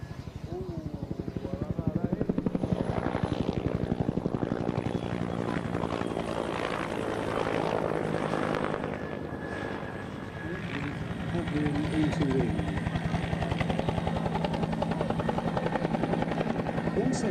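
A helicopter hovers during a sea-rescue display at the Malta International Airshow 2015, its loud, steady rotor throb continuous throughout while a commentator talks over it.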